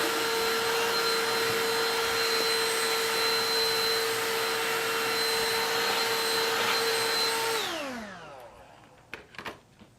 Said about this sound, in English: so I will vacuum really quickly.